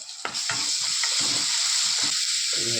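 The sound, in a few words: ginger and garlic sautéing in a pan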